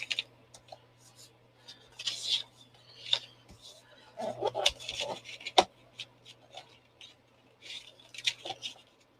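Scissors or a blade cutting a roughly one-inch strip of paper or card for a handmade briefcase minibook, close raspy snips and rubbing in irregular bursts, quiet between cuts.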